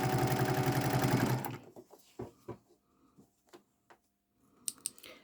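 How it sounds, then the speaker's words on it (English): A sewing machine stitches a fabric seam for quilting, running in a fast, steady mechanical whir for about a second and a half, then stopping, followed by scattered light clicks and handling taps. "I sew a couple of stitches and then I make sure everything lines up"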